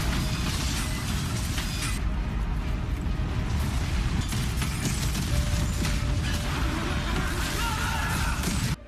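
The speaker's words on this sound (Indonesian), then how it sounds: "terlihatlah satu persatu armada mereka mengalami ledakan karena tidak mampu untuklah bertahan" Spaceships in an animated series fleet blowing up one after another, heard as a dense, continuous rumbling roar with crackling debris and mechanical grinding, loud and sustained throughout with no talking.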